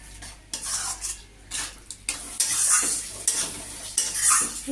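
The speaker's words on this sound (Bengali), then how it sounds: "চিংড়ি মাছটা দিয়ে আরও কিছুক্ষণ কষাবো" Prawns sautéed in spice paste in a pan with taro, stirred briskly so a spatula scrapes and clinks against the metal in uneven strokes over a soft sizzle, close and fairly loud.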